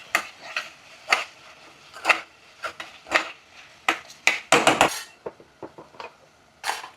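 A metal spoon stirs turmeric into mutton curry in a pot, giving a run of irregular clinks and scrapes against the metal, close and fairly quiet, with no talking.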